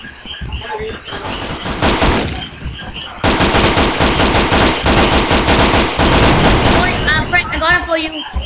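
Rapid automatic gunfire in the shooter game Authority rattles in long loud bursts with short gaps, with players talking over the shooting.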